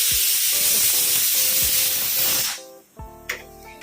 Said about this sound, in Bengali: কুকারে সিটি পড়ছে।